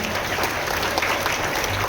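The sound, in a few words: applause at school investiture ceremony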